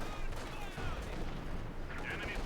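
Tank guns fire during a Company of Heroes 2 match, with a T-35 tank and a Panzer exchanging shots, producing dense, loud blasts and battle noise that run through the whole clip.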